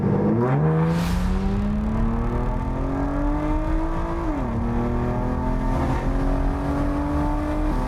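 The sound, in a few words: Aston Martin DBS V12 engine driving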